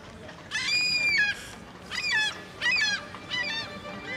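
A cartoon goose in the animated show Mush-Mush lets out four nasal honks in an uneven rhythm. The first call is the longest, and the honks sound loud and close with nothing else around them.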